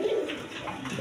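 Pigeons bred for laying eggs and raising chicks coo softly, a low throaty murmur with a brief rolling call, close by but fairly quiet, with no voices.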